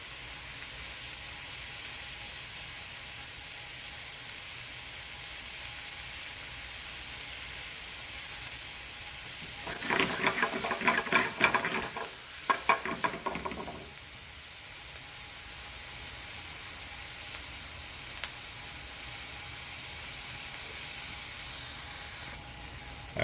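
An onion mixture cooking in a pan gives a soft, even sizzle and hiss throughout, with a brief louder burst of crackling and stirring near the middle, no one speaking.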